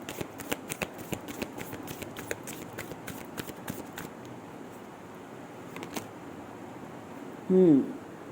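Tarot cards are shuffled and picked by hand in a Hindi reading, giving a close series of soft riffling flicks and taps that thin out, followed by a brief voice-like sound near the end.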